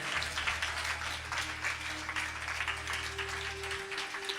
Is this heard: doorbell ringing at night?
no